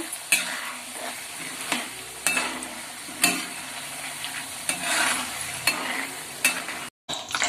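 Peanuts and chana dal fry in a pan for pulihora, a steady crackling sizzle broken by regular loud scrapes and knocks of a spoon stirring them, close and without talk.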